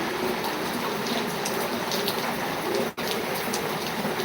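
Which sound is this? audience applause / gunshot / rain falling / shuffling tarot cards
rain falling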